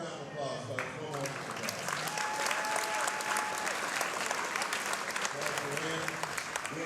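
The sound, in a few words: audience applause at boxing event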